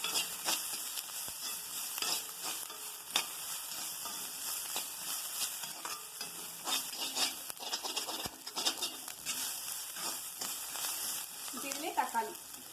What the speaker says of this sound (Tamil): பச்சை வாசம் போடுற வரைக்கும் நம்ம வதக்கிக்கலாங்க